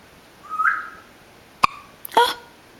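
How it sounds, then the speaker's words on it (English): A baby boy hiccups a few times, short sharp catches spaced across a quiet room, with a faint whistle-like sound just before them. "hiccup."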